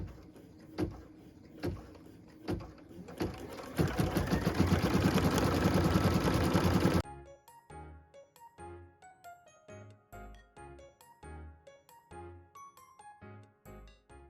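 An embroidery machine stitches a white star accent detail on a Christmas ornament: fast, even mechanical clatter that builds into a loud dense run, then gives way to a quieter train of separate rhythmic needle thumps.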